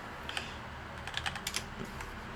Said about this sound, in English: Also to anyone distracted by my typing, well, that's character building.